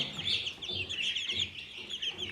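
Chicks from a pair of Indian game (Hint) chickens peep continuously in a dense, high chorus, with soft low clucking from the hens underneath, close and steady throughout.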